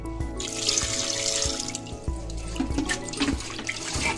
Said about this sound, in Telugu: ఇప్పుడు మంచి ఫ్రెష్ వాటర్ వేసుకొని క్లీన్ చేసుకుందాం